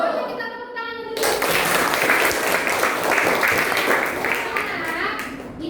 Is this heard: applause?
yes